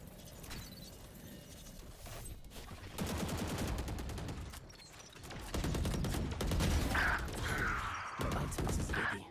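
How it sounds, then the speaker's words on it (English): Gunfire is traded in a Valorant match during a collegiate esports game: dense rapid shots and bursts of automatic fire ring out continuously, layered with game effects at a steady, fairly loud level. "Spooky, you know, trading bullets here with Jasper"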